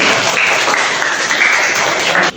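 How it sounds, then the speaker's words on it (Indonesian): A group in a classroom-style presentation session gets loud, steady applause that fills the clip and cuts off sharply near the end. "berikan tepuk tangan untuk kelompok."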